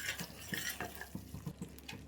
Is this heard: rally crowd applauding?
no